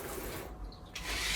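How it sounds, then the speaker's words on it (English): Running tap water splashing over a wire whisk being rinsed in a kitchen sink after baking a low-carb chocolate cake, a steady close hiss that dips briefly and then swells louder. "I'm rinsing it off real good"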